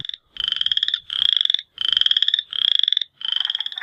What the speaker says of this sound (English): There's the western chorus frog,